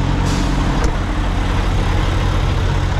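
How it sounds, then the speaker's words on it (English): Several truck engines idle together at a roadside stop beside a flatbed hauling an oversized load, a steady loud low rumble filling the scene with a couple of faint brief hisses. "There's a lot of guys out here with their engines running."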